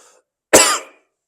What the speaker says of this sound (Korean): 왜 이렇게 기침이 나냐?